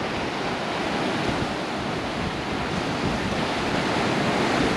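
Surf breaking on the Gulf-front beach at Alabama Point East, Orange Beach, on a hazy, foggy day: a dense, unbroken roar of waves, steady and fairly loud, with no voices.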